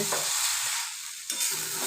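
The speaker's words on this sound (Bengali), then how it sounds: "একটু কড়াইতে নেড়ে নিচ্ছি চাল ডাল।" Rice and lentils with vegetables for veg khichuri are stirred in a hot wok, a close scraping shuffle over continuous frying sizzle, with a brief pause mid-stir.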